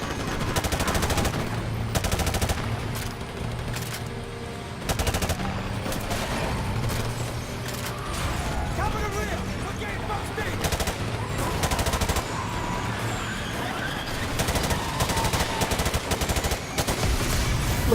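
Gunfire in the Call of Duty: Modern Warfare Remastered video game: rapid automatic bursts and fusillades in repeated loud clusters separated by brief pauses, steady game ambience underneath.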